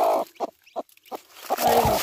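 A broody hen on a rural Brazilian farm gives several short, agitated clucks and grunts spaced by brief pauses, close and fairly loud, ending in a longer harsh vocal burst.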